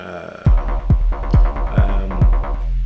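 Five sharp, pitched electronic hits from an Ableton Live 11 drum synth with quick downward sweeps, spaced evenly over a ringing metallic drone, loud and close.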